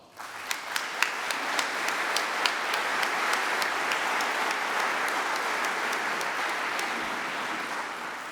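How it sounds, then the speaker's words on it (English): At a preservation awards ceremony, a large audience gives sponsors sustained, even applause, with a few sharper claps standing out near the start before the sound settles into a steady wash. "Let's give them a round of applause."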